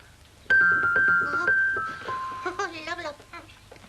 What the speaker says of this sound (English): they made a funny little noise like a bell